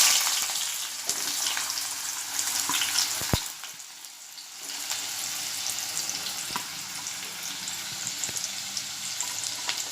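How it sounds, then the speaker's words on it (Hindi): Onions frying in hot oil in a pan on a gas stove, a continuous soft sizzle with a few sharp clicks and a brief dip midway, heard alone without voices. "अब मैं इसमें प्याज डालूँगी।"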